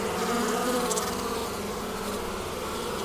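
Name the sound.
bees buzzing while pollinating strawberry flowers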